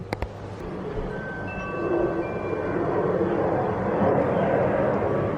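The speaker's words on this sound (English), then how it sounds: "There's planes coming in" Airplanes fly overhead coming in to land, a low rumble that swells gradually and grows louder over several seconds, heard at a distance outdoors after a couple of sharp knocks near the start.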